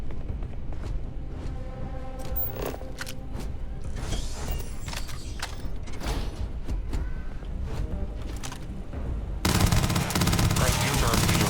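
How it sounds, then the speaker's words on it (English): Pirates in the video game Starfield open fire: rapid automatic bursts and single shots rattle on steadily, mixed with game noise, ending in a louder, denser stretch of shooting. "Apparently they saw me through the window, so they're shooting."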